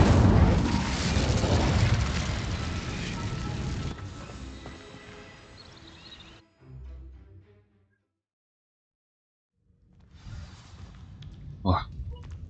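Incendio fire spell igniting dry vines in Hogwarts Legacy, a loud whooshing burst of flame that roars for several seconds and fades, then a short silence before further crackling game effects.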